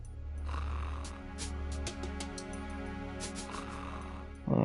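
A knocked-out guard snoring in Metal Gear Solid 2, a loud, deep rumbling snore that rises and falls in long drawn breaths, heard alone.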